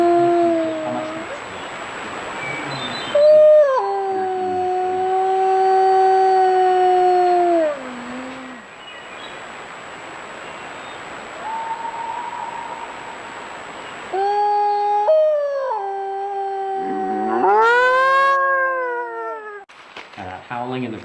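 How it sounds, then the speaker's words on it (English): Wolves calling three-month-old pups back to a rendezvous site with long, rising and falling howls, several voices overlapping in drawn-out wails with pauses between, fairly loud and clear in an open outdoor setting. "that howling in the background is most likely their parents trying to call them back to that rendezvous site"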